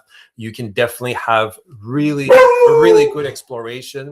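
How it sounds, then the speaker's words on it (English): A pet dog barks and howls in the background, a drawn-out cry partly buried under continuous close-up speech. "that's my dog barking in the background"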